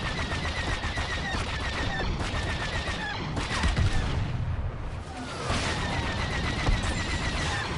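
Missile and weapon fire in the Star Wars Battlefront video game, dense, loud, continuous bursts of blasts and rapid shots with brief swooshes, near and unbroken.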